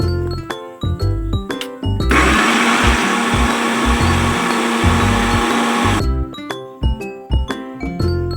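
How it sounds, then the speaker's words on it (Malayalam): A kitchen mixer grinder purees pineapple with a loud, steady whirring roar for about four seconds. Before and after the blending, brief clinks and taps of kitchen handling are heard, with no voices. "ഇതിനെല്ലാം കൂടെ നമുക്ക് ഒരു മിക്സിക്കകത്തേക്ക് ഇട്ട് നല്ലപോലെ ഒന്ന് അരച്ചെടുക്കാം"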